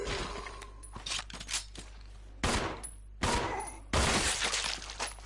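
Gunshots ring out in Resident Evil Zero: three loud, sharp reports a little under a second apart stand out against a low hum, with smaller clicks and thuds before them.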